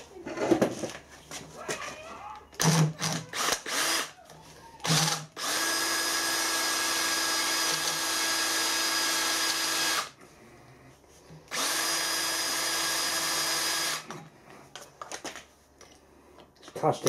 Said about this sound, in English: so I'm drilling it dry. Brand new cobalt drill.